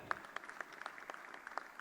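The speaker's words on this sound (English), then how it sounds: "With a warm round of applause, please join me in welcoming CA Raghav Iyengar" Scattered, sparse clapping from a small audience at a chartered accountants' convention, quiet and fairly distant, individual claps distinct in an uneven rhythm.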